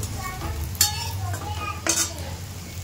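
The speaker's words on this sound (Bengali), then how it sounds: "এখন পেঁয়াজি হচ্ছে, সকালে পেঁয়াজি দিয়ে ভাত খাবো।" Piyaji onion fritters frying in a pan, with a steady sizzle under a low hum, punctuated by two sharp metallic scrapes or clinks of a utensil.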